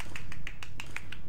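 Sharp, evenly spaced claps or snaps, about nine of them in quick regular rhythm, close and crisp over a low background hum.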